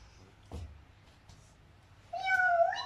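A voice imitates a cat, giving a short high meow-like call after a few soft sounds in a quiet room.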